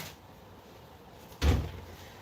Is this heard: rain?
no